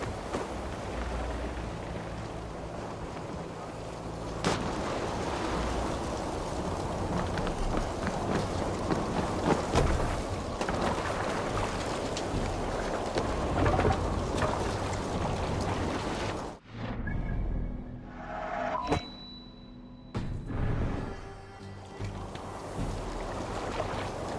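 A storm at sea in Assassin's Creed Valhalla, with a dense, loud roar of wind, rain and surging water running almost continuously and a brief drop-out near the end.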